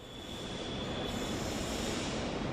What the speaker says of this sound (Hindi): ये है दिल्ली की शान कही जाने वाली दिल्ली मेट्रो